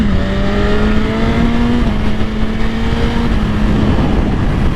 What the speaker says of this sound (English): So just instant acceleration to highway speed.